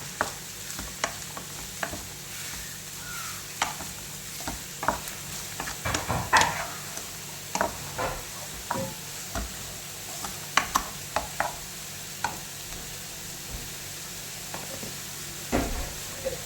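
Vegetable egg thoran is stirred and mixed in a pan, a spatula scraping and knocking in irregular strokes over a soft continuous sizzle, close and fairly loud, with no talking.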